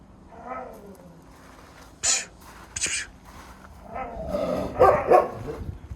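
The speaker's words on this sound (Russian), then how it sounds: "Опять Слуя собачится" Dogs bark and snarl in short scuffling outbursts, close by, with growls and yelps coming in uneven bursts.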